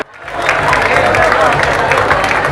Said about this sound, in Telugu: గట్టి చప్పట్లతో సార్కు స్వాగతం సుస్వాగతం తెలియజేయండి